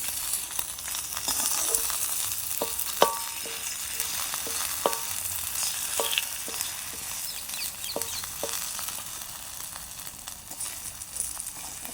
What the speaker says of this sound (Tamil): அப்போ நாங்கள் இப்படி வறுத்தெடுப்போம் முட்டையை